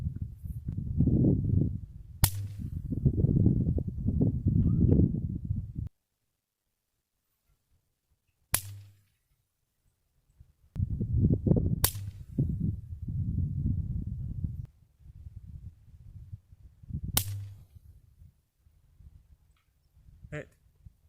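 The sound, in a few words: Savage Mark II .22LR rifle shots at long range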